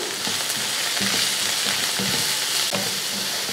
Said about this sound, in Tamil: வெங்காயம் வந்து நல்லா வதங்கி வரட்டும்